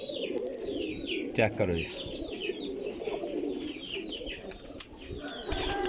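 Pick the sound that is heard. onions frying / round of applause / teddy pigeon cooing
teddy pigeon cooing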